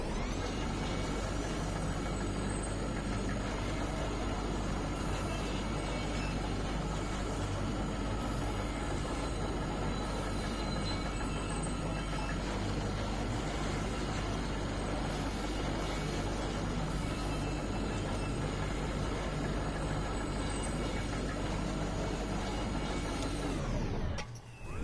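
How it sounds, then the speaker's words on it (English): Muffled, highway-like rumbling deep underground in Kentucky Route Zero, a dense continuous roar holding steady and loud for nearly the whole stretch before cutting off abruptly at the end, with no voices over it. "Kind of a muffled rumbling. Maybe we're near the surface. Yeah, it sounds kind of like a highway."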